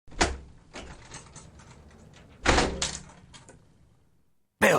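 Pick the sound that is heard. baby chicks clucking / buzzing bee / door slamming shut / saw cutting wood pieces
door slamming shut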